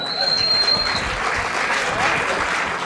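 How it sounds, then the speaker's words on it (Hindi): An audience at a Hindi poetry recital applauds steadily, a dense wash of clapping that stays even throughout. "तालियां बजाया करो।"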